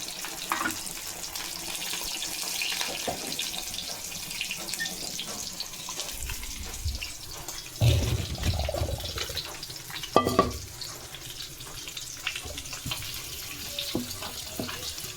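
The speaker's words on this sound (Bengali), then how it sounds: "এবার আমি জলটা ঝারিয়ে নেব।" Water from boiled taro stolons being drained in a home kitchen, a steady splashing pour with a couple of louder gushes and clatters of the pot partway through.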